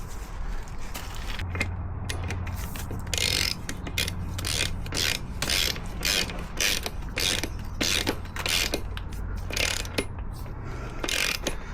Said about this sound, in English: Let's torque up this nut now.